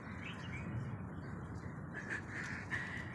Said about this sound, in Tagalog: Nagpapakain ng mga uwak.